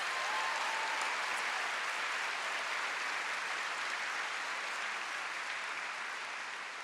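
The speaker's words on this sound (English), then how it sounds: "How about one more huge round of applause for CCV for hosting us?" Sustained, dense applause from an audience at a school opening event, loud and steady throughout with no pause and only a slight fade near the end.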